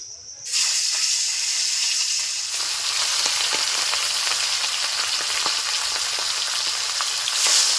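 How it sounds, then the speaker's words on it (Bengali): Rita fish sizzles loudly in hot mustard oil in a kadai, a dense, constant crackling hiss with scattered pops, starting abruptly and continuing without pause. "তেল গরম হয়ে গেছে মাছগুলো ভেজে নিচ্ছি"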